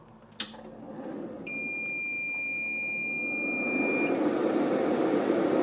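A Datou Boss DT4862S 6200W inverter, just switched on, gives a single sharp click followed by a long, steady high-pitched electronic beep over a rising fan-like hum, with no talking.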